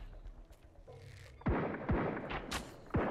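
Gunshots in the survival video game Sunkenland: four or five sharp, loud reports spaced unevenly over a few seconds, with faint background game noise between them.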